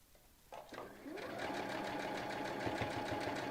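A sewing machine stitching a hankie table runner starts up after a brief pause, then runs steadily with a loud motor whir and fast, rhythmic needle pulses close by.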